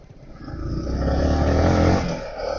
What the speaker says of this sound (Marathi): खूप दिवसात गाडी पळवतोय मी तसा.